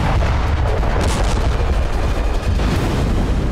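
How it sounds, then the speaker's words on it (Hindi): Heavy, continuous booming blasts from a strike on a Hezbollah rocket depot in Yater, loud and rumbling throughout with no speech over it. "यातेर में IDF ने हिजबुल्ला के रॉकेट गोदाम पर विस्फोट किया।"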